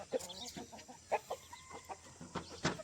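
Chickens on a poultry farm cluck in short, scattered bursts. Some calls come close together and others stand alone, all fairly faint and from a little distance, with no speech.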